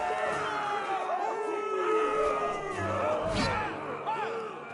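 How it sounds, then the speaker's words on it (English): Arena crowd in a PS5 video game cheering and roaring, a dense continuous wash of many voices swelling and holding steady, with a sharp impact or shout near the middle. "Hear that, boy? We cannot let the crowd go wanting!"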